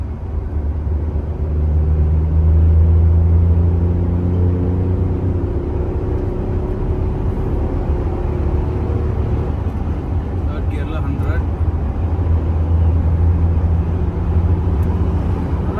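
A Tata Nexon car accelerates in third gear, a steady low engine rumble and road drone rising slightly in pitch, heard from inside the cabin while someone talks over it.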